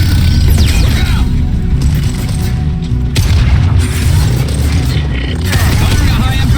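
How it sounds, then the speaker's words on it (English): In the Mass Effect 2 video game, a dropship arrives amid a dense battle soundscape of heavy booms, mechanical creaks and whooshing passes, loud and continuous. "Incoming dropship. Look out!"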